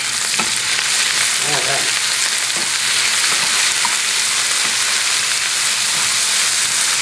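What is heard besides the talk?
chopped capers sizzling in a frying pan with peppers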